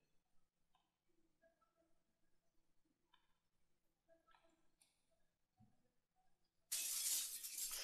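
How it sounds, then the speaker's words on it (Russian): Window glass shatters in the Project Zomboid survival game, arriving as a sudden loud burst of breaking glass near the end after a stretch of faint ticks and small in-game noises. "Я разбил окно"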